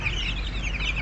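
Brahma chickens, including Light, Gold Partridge, Buff and Splash Salmon birds, cluck softly and steadily in a hot pen, a low continuous flock murmur with no talking.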